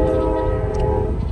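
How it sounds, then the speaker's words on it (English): A train passes in the background. A sustained tonal horn-like drone rides over a loud, rumbling low-end roar. There is no talking. "there's a train in the background."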